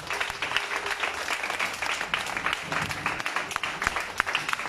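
A church congregation applauds during a sermon, a steady, dense wash of hand claps that is fairly quiet and continues evenly with no pause.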